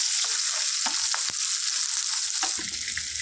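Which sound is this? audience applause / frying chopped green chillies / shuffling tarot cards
frying chopped green chillies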